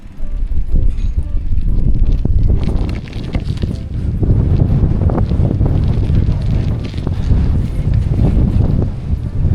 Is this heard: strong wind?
yes